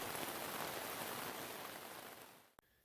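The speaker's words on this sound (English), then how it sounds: "a few minutes later the real rain started, and it didn't let up until it was too late to do anything" Steady rain falling outdoors on a trail campsite, a dense even hiss that fades slightly before cutting off near the end.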